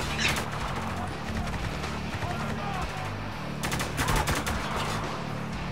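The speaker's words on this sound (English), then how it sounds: "Target's getting airstreamed! He's coming out of cover! Taking heavy fire!" Heavy automatic gunfire rattles through a Spec Ops: The Line battle, sustained bursts with sharper volleys near the start and again toward the end, while voices speak over the shooting.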